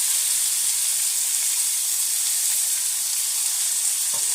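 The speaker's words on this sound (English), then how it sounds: "And I'm going to just saute that a little bit." Spinach sautés in a hot pan, giving a loud, continuous, close sizzling hiss that holds steady throughout, with a faint soft clink near the end.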